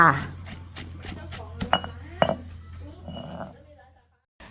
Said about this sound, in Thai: ก็นำทุกอย่างที่เราคั่วเนี่ยเอามาตำได้เลย